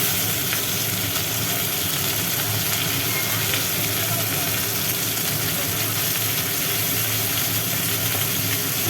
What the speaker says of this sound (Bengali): মাছটাকে আর একটুখানি পাল্টি করে নিই একটু লাল লাল করে ভেজে নিতে হবে